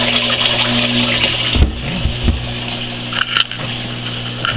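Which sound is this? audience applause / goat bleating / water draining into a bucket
water draining into a bucket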